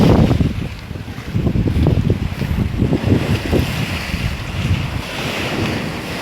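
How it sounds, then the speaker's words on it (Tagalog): Strong lake waves on Taal lashed by gusty wind, heavy low rumbling surges and crashes with buffeting wind noise on the microphone, loud and close. "Malakas ang alon pala din eh. Grabe, ang lakas oh."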